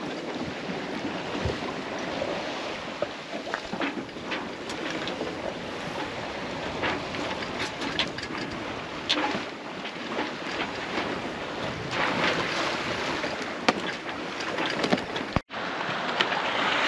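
A sailboat under sail at sea in November gives a continuous rush of wind and water around the hull, steady and fairly close, with a few scattered knocks and no talking.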